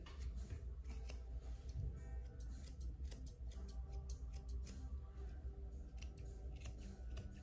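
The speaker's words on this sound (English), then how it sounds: "with my curved shears, I am rounding up over the foot" Curved shears trim the hair over a Pomeranian's foot in repeated quick, crisp snips, close and quiet, ticking in an uneven rhythm with no talking.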